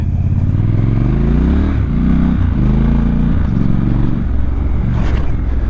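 A 2019 Triumph Scrambler 1200 XE retro motorcycle rides a dirt road on knobby tires, its engine droning loud and close, with the pitch climbing and dropping through gear changes and rough wind noise throughout.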